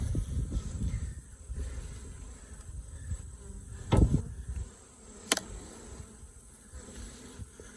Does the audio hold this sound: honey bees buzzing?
yes